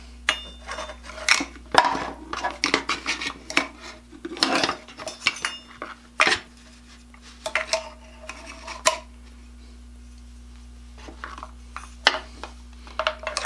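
Small metal pans clink and rattle as they are handled, in irregular bursts with a quiet pause before a few final clanks.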